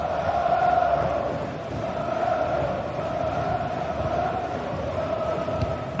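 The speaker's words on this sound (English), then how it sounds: "The crowd encouraging him to take it on." A steady, dense roar from a stadium crowd in a football video game, continuous and fairly loud throughout with a faint tonal hum running beneath it.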